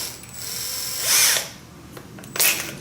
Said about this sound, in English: Then you take and you put your newly fashioned prime tool in your drill